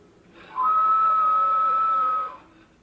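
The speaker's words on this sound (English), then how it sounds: "when you blow in it, it makes a whistle, and they know you want to speak to them" A speaking tube whistles as someone blows into it: one steady, clear high tone held for nearly two seconds, loud and close, with no talk over it.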